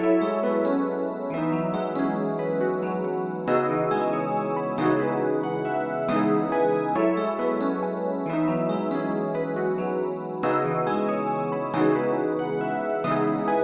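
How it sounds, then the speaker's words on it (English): Two layered pianos play full, ringing pluggnb chords that change every second or so in a steady progression, bright and sustained with no voices. "The 2 pianos sound like this together."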